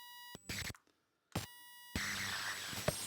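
A rechargeable USB dog deterrent gives one clear electronic beep, a steady tone with harmonics lasting about a second and a half, then stops abruptly amid quiet handling noise.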